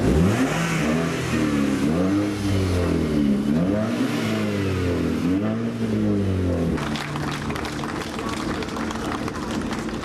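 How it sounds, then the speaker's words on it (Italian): Modified tuning cars rev their engines hard on a church forecourt in Folzano, Brescia, with loud rising and falling roars in repeated waves, then a steadier mechanical rumble with a crowd audible in the background. "È il frastuono dei motori delle auto tuning modificate, sua grande passione, ad accogliere sul sagrato della chiesa di Folzano Giada Zanola"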